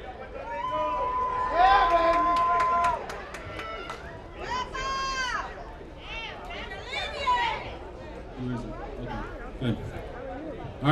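Crowd chatter at an outdoor Puerto Rican flag raising ceremony in Paterson, a steady babble of many voices with whistles and cheers rising over it, fairly close and lively throughout.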